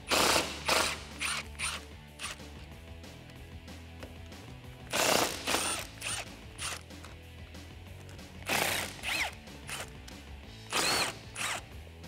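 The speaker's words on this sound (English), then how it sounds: "remove the 4 bolts holding the side of the windshield in using a T40 Torx" Ratchet wrench removing the windshield side bolts on a Jeep Wrangler JK 4-door with a T40 Torx bit, heard as loud, close bursts of rapid clicking separated by quieter gaps, repeating about four times, with no talking.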